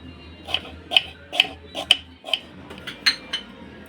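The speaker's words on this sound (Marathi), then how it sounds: "हे सर्व मी कांदे आणि टोमॅटो चिरून घेते" A knife chops onions and tomatoes on a board, about seven sharp, evenly spaced knocks with bright clicking tops, close up over a quiet low hum.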